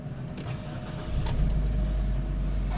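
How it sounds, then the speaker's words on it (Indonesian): A 2013 Nissan Grand Livina 1.5 X-Gear CVT engine cranks briefly, catches and settles into a steady, close idle, with a faint electric whine just before the start. "Dan kita nyalain ya mesinnya."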